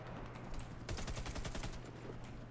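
A rapid burst of automatic gunfire in the game Warface, a quick rattling string of shots at moderate distance, over a low steady background hum.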